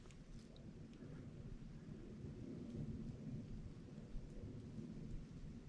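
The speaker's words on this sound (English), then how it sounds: "all I can hear is a little bit of wind rustling. It's very still, and a distant plane in the air" A low, steady rumble fills the air outdoors, faint and distant, with soft wind noise and no voices.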